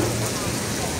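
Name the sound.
heavy rain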